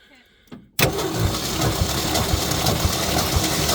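A brief voice comes first, then a 1966 Ford F100 engine suddenly cranks over during a compression test. The starter chugs in a steady, rhythmic churn, loud and close, and keeps going without pause.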